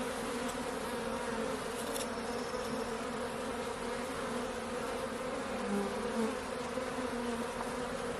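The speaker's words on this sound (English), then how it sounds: "Watch out, bees." A dense, continuous buzz of a caught honeybee swarm close by, steady and unbroken throughout.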